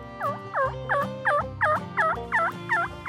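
A wild turkey in a New Mexico canyon gobbles in a rapid run of about nine rattling calls, close and clear, with no other voices.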